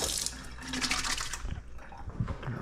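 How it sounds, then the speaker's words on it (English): Tap water runs steadily into a kitchen sink during a quick hand wash between cooking steps, a close, broadband splashing hiss that shifts and thins partway through, with no talking over it. "Wash my hands real quick."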